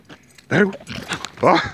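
Presa Canario puppy, a greedy eater, making short dog vocal sounds in two close bursts, with quiet gaps between.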